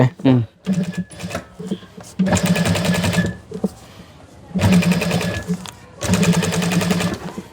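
A sewing machine stitches leather shoe uppers in a footwear factory, running in several loud bursts of rapid, rattling stitches with brief pauses between them, close by.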